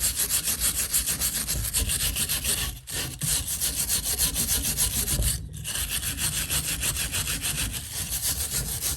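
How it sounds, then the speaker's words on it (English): A hand wire brush scrubs a rusty metal froe head in long, steady, loud back-and-forth strokes with two brief pauses, heard alone without talk. "I think I'll use the hand wire brush first."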